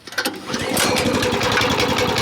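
A Weima walk-behind tractor engine starts with a few sputtering pulls, then settles into a close, loud, steady chugging run.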